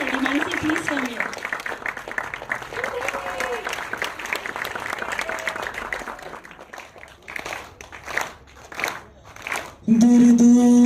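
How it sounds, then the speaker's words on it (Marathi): An audience at a Marathi film song launch event applauds for the lead actress Mansi Patil, loud sustained clapping mixed with voices and cheering that thins out toward the end, where music begins. "जोरदार टाळ्या मानसी पाटीलसाठी."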